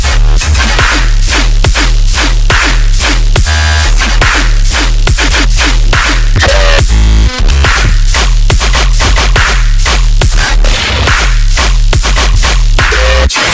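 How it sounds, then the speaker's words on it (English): Granular bass second drop of an electronic track: loud, dense, continuous glitchy bass with rapid chopped stutters and pounding low hits, a brief break near the middle before slamming back in. "I'm going to be talking about the Granular second drop, which sounds like this."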